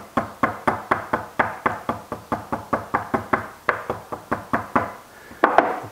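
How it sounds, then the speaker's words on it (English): A rubber mallet taps about twenty times on a Porsche 911SC engine case part, light, evenly spaced knocks close up, with a slightly firmer tap near the end. "Give it a little tap with this rubber mallet."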